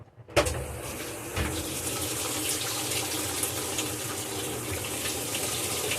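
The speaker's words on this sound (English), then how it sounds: "And then I start the water on a large load." Cold water rushes into a washing machine at a laundromat, set for a large load: a sudden gush starts after a brief silence, then settles into a steady, close flowing hiss that runs on alone.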